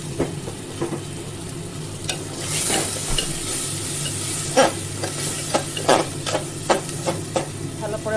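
Ground spice paste, added after nigella seeds and green chillies, sizzles steadily in hot oil while a spoon scrapes and stirs the pan in irregular bursts, close and fairly loud, for a Bengali coconut katla fish curry.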